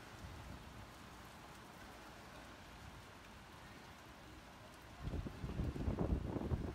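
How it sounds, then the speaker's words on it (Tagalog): Rain pours down during a hailstorm in Al Dayer, Saudi Arabia, as a steady hiss that swells into a louder, rougher drumming of heavy rain near the end. "Yeah, lakas ng ulan."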